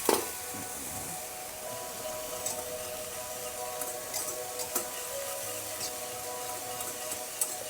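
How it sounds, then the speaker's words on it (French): Polenta being stirred in a pot of boiling water and milk, a steady wet scraping and bubbling with occasional light clinks of the utensil against the pot, close and continuous without talk. "On mélange, on mélange."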